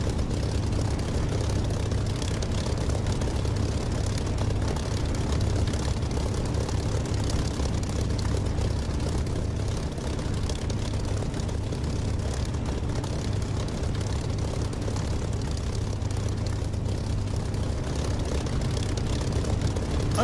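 A propeller aircraft engine in the DCS flight simulator game drones loudly and steadily for the whole stretch, a low, even rumble with no talk over it.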